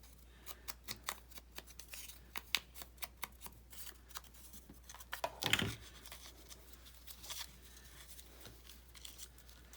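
Small, quiet snips of scissors cutting a stamped fabric tag, a string of light, crisp clicks at an irregular pace, close to the listener with a slightly rustling background and no speech.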